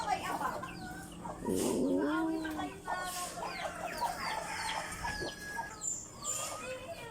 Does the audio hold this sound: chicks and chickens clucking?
yes